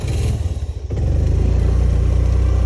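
A motorcycle rides over a rough, stony mountain road from Thankot through Chitlang to Toplang in Nepal. Its engine drones loud and close, with clattering over the bumps and a brief dip before it steadies into a continuous hum.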